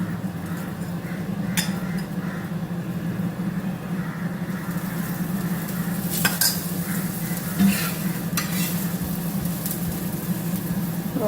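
Ragi adai frying in oil on a pan, a steady soft sizzle running continuously, with a few sharp clinks of a utensil against the pan.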